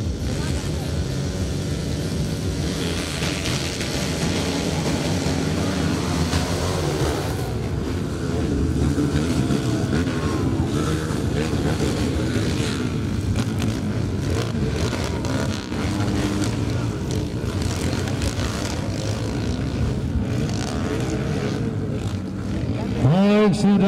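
Motocross motorcycles race on a grasstrack circuit at a regional championship in Toraja Utara, their engines a continuous, fairly distant roar under a race commentator who talks throughout.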